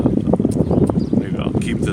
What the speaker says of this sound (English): a bit windy, so